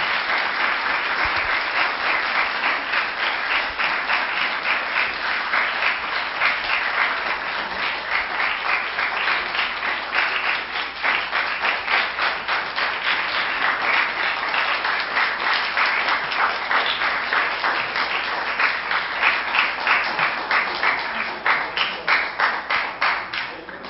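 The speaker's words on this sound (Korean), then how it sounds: "더 큰 박수로 환영해 드릴까요?" Sustained applause from a large crowd at a panel debate, steady dense clapping that stays loud throughout with a slight swell near the end.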